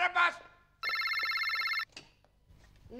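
A telephone rings with one electronic trill lasting about a second, close and clear, with brief talk just before it.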